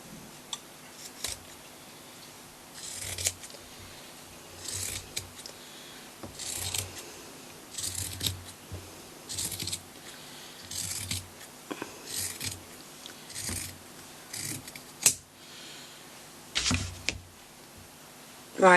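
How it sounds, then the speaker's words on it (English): Scissors snip along a fold in a kitchen towel in repeated steady strokes, each cut a soft crunching slice, close by with short gaps between. "I'm just going to take a pair of scissors and I'm just going to cut along this fold."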